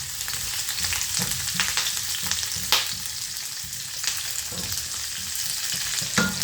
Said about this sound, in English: And then I'm going to stir.